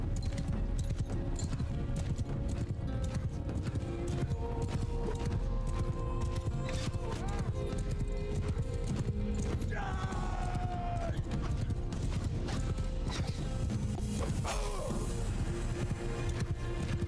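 Horse hooves in the video game Mount & Blade II: Bannerlord, a continuous clip-clop of galloping over a dense battle din, with an occasional whinny.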